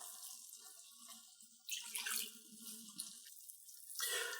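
Stock being poured into a pan of risotto, a wet splashing pour that swells in two bursts, clear and close with no talk over it.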